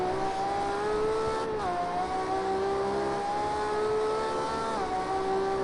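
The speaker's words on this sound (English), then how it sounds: "at the sound of this Ferrari 333 SP. It really is something to admire" A Ferrari 333 SP race car engine in Project Cars 2 screams at high, sustained revs, dipping briefly as gears shift, loud and close with no talking.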